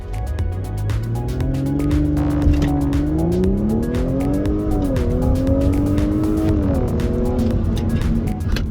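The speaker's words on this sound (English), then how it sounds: "we're gonna do a quick run here to see how the transmission shifts before the parts are installed. So here we go with some launch control" An Audi S4 makes a launch control acceleration run, its engine roaring loudly and steadily as the pitch climbs through several gears, with brief dips at each shift and a ticking rattle over the drone.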